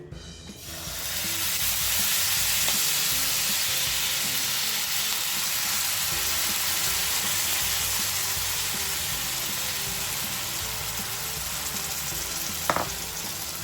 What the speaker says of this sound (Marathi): तवा इथे तापलेला आहे, मी याच्यावर थोडं तेल टाकलंय. आता आपण हे बॅटर त्याच्यावर टाकू.